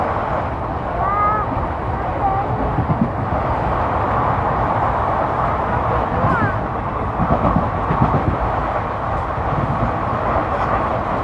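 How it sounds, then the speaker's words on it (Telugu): Train crossing a MEMU express at Kalluru station, heard from inside a moving coach as a steady loud rumble and rattle with brief whistle-like tones, background voices throughout. "కల్లూరు స్టేషన్ దగ్గర మనం ఒక మెమో ఎక్స్ప్రెస్ని అయితే క్రాస్ చేస్తున్నాము"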